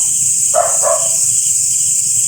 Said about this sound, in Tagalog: Kanina pa yung aso na yan,